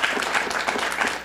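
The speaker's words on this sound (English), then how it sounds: "can we give her a round of applause?" A short burst of audience applause at a public forum, a brisk patter of many claps at steady volume.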